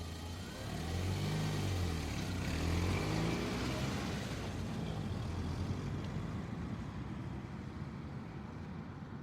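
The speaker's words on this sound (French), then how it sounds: "Il redémarra alors sa voiture et retourna chez lui au plus vite." A car engine starting up and pulling away, a steady mid-pitched drone that swells as it revs and then settles into a continuous, slowly fading run.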